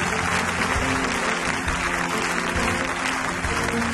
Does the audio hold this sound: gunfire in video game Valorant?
no